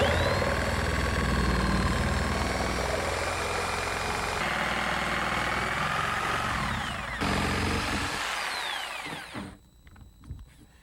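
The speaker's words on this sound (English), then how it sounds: "Now, using my reciprocating saw, I can shove it through the hole. That way now I can cut the whole sandwich panel at one time." A reciprocating saw cuts straight through a sunroom sandwich panel to open a hole for a Humidex duct, buzzing loudly and steadily for about nine seconds before it winds down into scattered knocks and quiet, with no talking.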